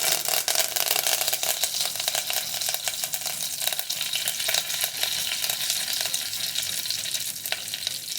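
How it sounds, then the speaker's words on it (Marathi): Mustard seeds sizzle and crackle in hot oil for a tempering, with rapid sharp pops over a steady frying hiss, heard close and fairly loud throughout with no speech. "राई तडतडली की कढीपत्ता टाकणार आहोत."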